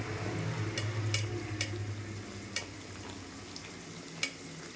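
Four malpua rounds of sweet batter fry gently in a pan over low gas, a soft continuous sizzle with a few faint clicks and taps on top.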